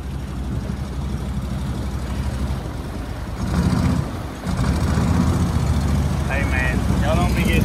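A mini Jeep's small motor runs on water on its first outing with this engine, a rough continuous drone that swells briefly midway, with voices talking over it near the end.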